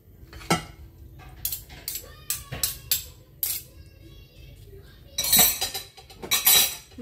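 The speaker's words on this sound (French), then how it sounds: "vous mélangez bien" Salad being tossed in a bowl, with several sharp clinks and scrapes of utensils against the dish, spaced irregularly and heaviest toward the end, close and fairly loud.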